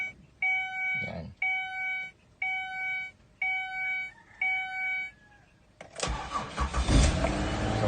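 A Ford Escape engine cranks and catches after a repair, preceded by a run of five regular chime-like warning tones with clicks, then the engine rumbles into a loud, steady idle close by.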